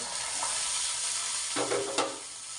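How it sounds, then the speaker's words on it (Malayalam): Rava kanji with ghee-fried cashews and raisins stirred in a pot, a soft sizzle with a couple of spoon scrapes near the end, close and quiet, no voices. "എന്നിട്ട് നന്നായിട്ടൊന്ന് ഇളക്കി കൊടുക്കുക"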